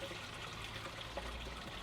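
Nettle liquid manure strained through a small plastic colander, giving a steady soft trickle and dribble of liquid throughout, faint and continuous with no talk.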